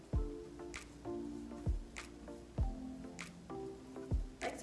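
A wet paintbrush is pressed and wiped on a paper towel in a kids' paper bag jellyfish craft, giving soft, damp squishing dabs that repeat about once a second, close and quiet, with no talking.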